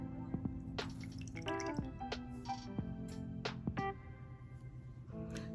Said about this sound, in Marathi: त्याला आपण तर पाण्यात स्क्वीज करून घ्यायचंय.